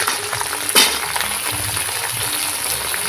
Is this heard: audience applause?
no